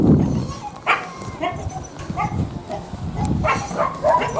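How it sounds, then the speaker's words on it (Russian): A dog on a muddy farm in thaw barks and yips in several short, loud bursts close by, with whimpering sounds between the barks. "Вон иду к собачке."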